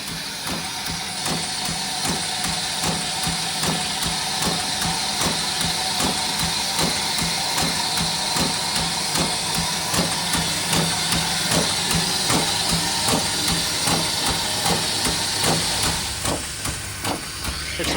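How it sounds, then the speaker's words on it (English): A steam locomotive's air compressor runs with a steady rhythmic pumping and clanking beat over a constant hiss, close and unbroken for the whole stretch. "There's your air compressor."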